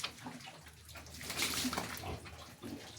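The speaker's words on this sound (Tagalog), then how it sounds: "Sinasalo nila yung tubig na binubuhos ng sahig eh." Water is poured and splashes onto a floor in bursts of hissy spatter, fairly faint, with a little animal or background noise mixed in.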